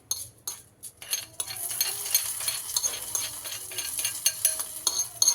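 A spice tempering hits a pot of sambar on a home stove, with a faint steady sizzle and a spoon stirring and lightly clinking against the vessel, no voices.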